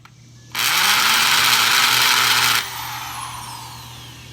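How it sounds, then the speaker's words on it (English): A power drill bores pilot holes into the floor of a swimming pool for the screws of a main drain safety cover, running loud and steady for about two seconds, then cutting off into a low background hum. "Chris is drilling pilot holes for the screws that will hold the main drain to the bottom of the pool"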